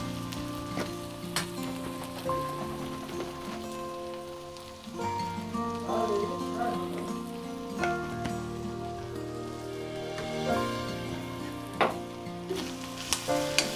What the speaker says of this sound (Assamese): এইখিনি দিয়াৰ পিছত মই ভালদৰে ভাজি দিম।